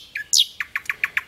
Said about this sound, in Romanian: sunt ciripitul unor păsărele